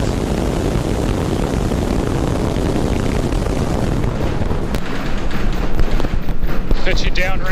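A SpaceX Starship rocket lifts off with a dense, continuous roar of broadband noise that grows slightly rougher and more crackling toward the end, with a voice talking over it.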